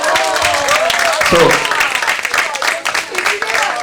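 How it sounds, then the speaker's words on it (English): A conference audience at a pediatric pulmonology meeting in Mumbai bursts into loud, sustained applause, with a voice speaking briefly over the clapping. "you can give a roaring applause to Dr. Gautam Sapre."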